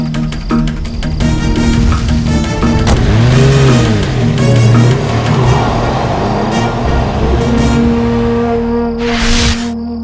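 An expensive car's engine revs at night, with rising and falling sweeps, heard loud and close over a steady music score.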